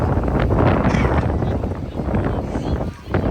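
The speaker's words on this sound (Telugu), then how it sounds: "గాలి విపరీతంగా వేస్తుంది." Strong wind blows hard beside the Sarayu river, roaring loudly and steadily across the microphone, with a voice partly buried underneath.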